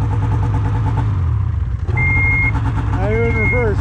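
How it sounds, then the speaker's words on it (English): A Yamaha Kodiak 700 ATV engine rumbles nearby as it is throttled in reverse, with a steady electronic tone sounding near the middle and end, plus a rising and falling whine, while people talk. "I hold it and hit the throttle."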